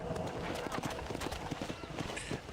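Horse hooves clip-clop at a steady trot in the Red Dead Redemption video game, a rhythmic run of close hoof beats over continuous game ambience, with someone talking over it.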